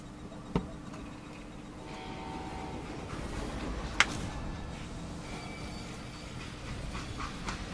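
A train in the Call of Juarez Gunslinger video game gives a steady, moderately quiet rumble with a hissing layer. Two sharp metallic clanks stand out near the start and midway through.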